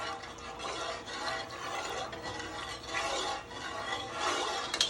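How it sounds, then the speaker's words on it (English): Jamaican-style cornmeal porridge being stirred in a pot: a continuous soft scraping and swishing of a spoon through thick liquid, steady and fairly faint, with no voices. "So we're gonna give this a quick stir so that it don't lump up."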